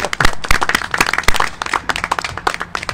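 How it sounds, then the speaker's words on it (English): Audience clapping outdoors under a park gazebo at a groundbreaking ceremony, a close, dense burst of many hands applauding steadily for several seconds. "We can clap for that."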